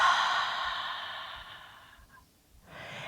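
A long, breathy exhale during a yoga breathing exercise, fairly close and steady, tapering off into a brief quiet pause before the next breath begins.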